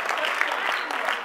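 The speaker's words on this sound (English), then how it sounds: "I want you to applaud this family." A church congregation claps during a baby dedication service, a short burst of dense, moderately loud applause from a room full of people.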